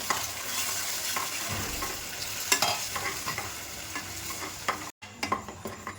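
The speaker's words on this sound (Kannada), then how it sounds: "ಚೆನ್ನಾಗಿ ಇದನ್ನು ತಿರುಗಿಸ್ಕೊತಾ ಇದ್ದೀನಿ" Egg, prawn and dry fish palya stirred in a hot pan, with a busy sizzle and irregular clinks and scrapes of the spoon, close by, with a brief cut near the end.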